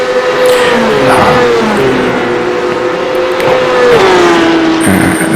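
A Porsche Cup race car engine howls loud and close, its pitch holding high and then dropping through gear changes as the car accelerates on track.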